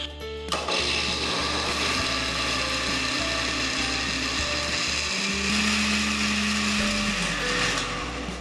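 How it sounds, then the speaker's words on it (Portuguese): A loud, steady mechanical whirring with a rattling, ratchet-like grind that runs almost continuously, shifting pitch slightly midway, as a blender churns ingredients for a passion fruit cake. "vou colocar aqui na base do liquidificador e vou bater muito bem esses ingredientes"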